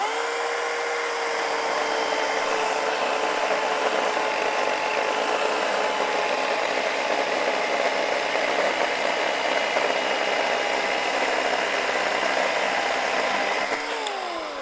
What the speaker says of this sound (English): tiny little chainsaws. They run electric. They're 18 volt.